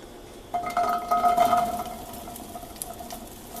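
Forty ounces of fresh organic garden blueberries tumble into a cooking pot for maple blueberry preserves, a brief close burst of soft pattering and rustling that fades into quiet kitchen background.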